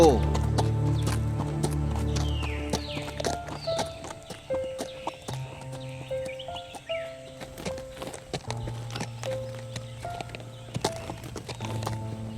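Horse hooves clip-clop in a steady walking rhythm in a Marathi animated cartoon, mixed with background music and voices.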